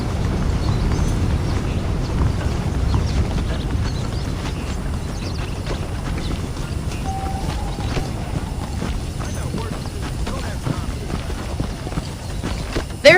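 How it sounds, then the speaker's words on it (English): Horse hooves clip-clopping steadily in the Red Dead Redemption video game, a continuous trotting rhythm running under game music and ambience while a voice talks. "The horses are saddled up over here."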